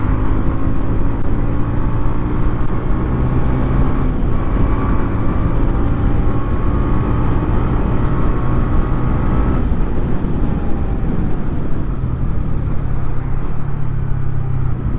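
A TVS Ronin Agonda Edition motorcycle accelerating on the road, its engine note rising steadily under loud, continuous wind and road roar that persists throughout the pull.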